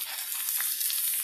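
Julienned carrots sizzle and fry in a hot pan with ginger, a close, steady crackling hiss with faint stirring noises.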